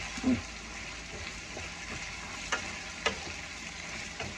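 Sliced red onion stir-frying in a pan for Thai cashew chicken, a steady close sizzle with occasional sharp ticks and pops from stirring, with no talk over it.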